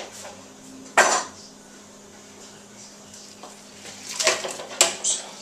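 Vegetables are tossed into a turkey giblet stock pot: a sharp clatter lands near the start, then a cluster of quieter knocks and splashes a few seconds later, over a faint kitchen background.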